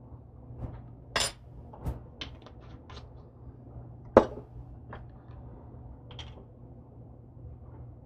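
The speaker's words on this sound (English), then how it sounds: "we'll just stir this together until it's all nicely melted together" Breakfast bar mixture melting in a pot and being stirred: quiet scattered clinks and scrapes of a utensil against the pot, irregular and close, over a low steady hum.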